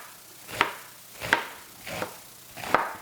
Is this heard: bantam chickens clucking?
no